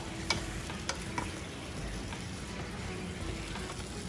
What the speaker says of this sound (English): Gently stir the noodles.